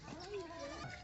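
A goat bleats on a goat farm in Dera Ghazi Khan with one wavering, drawn-out call, heard faintly against a background hiss.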